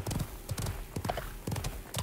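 Flaming blue horse mount galloping in the game Realm Royale, its hooves beating out a quick, rhythmic clip-clop, fairly close and steady.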